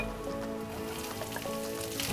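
Fresh grated coconut sizzling steadily in a pan over a low gas flame while making modak filling, a continuous close crackle with no talk.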